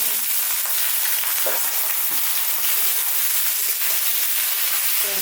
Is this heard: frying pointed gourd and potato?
yes